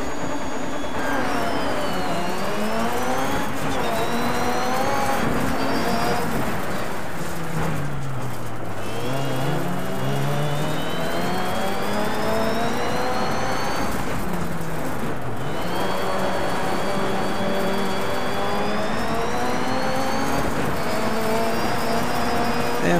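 A rally car engine from the racing video game DiRT 3 revs and shifts through gears, pitch climbing and dropping repeatedly in a loud, continuous drone with no voices.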